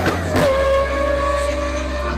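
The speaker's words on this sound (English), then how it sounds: "This is the exhaust of the Urus." A Lamborghini Urus exhaust holds a steady, deep, loud idle drone with a smooth tonal hum, and a slight swell near the start.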